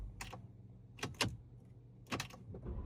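Keys to a 2025 Porsche Macan S jingle in several short metallic bursts with quiet pauses between them, close by and fairly soft.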